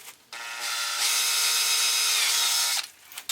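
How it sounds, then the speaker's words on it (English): A power drill bores holes through plastic bins, its motor whining steadily and loudly for about two seconds before spinning down, with a short burst near the end. "drill ones on the opposite side as well for the bins that are on the bottom"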